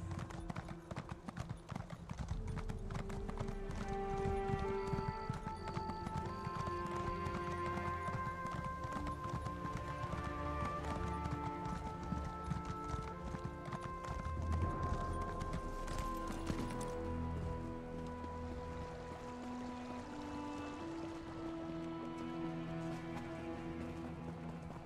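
A horse's hooves clip-clop in a steady trotting rhythm in Elder Scrolls Online's Morrowind expansion, moderately loud beneath continuous layered game music.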